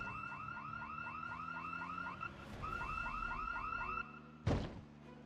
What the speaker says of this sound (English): these house alarms are getting out of hand